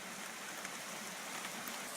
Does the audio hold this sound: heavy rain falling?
yes